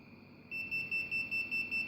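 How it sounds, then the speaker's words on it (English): A smoke alarm buzzer set off by agarbatti incense smoke near its sensor in a home fire alarm setup, a steady high tone that breaks into rapid repeating pulsed beeps, close and alone. "it is alerting with a buzzer saying that some fire, some smoke is been detected in the house"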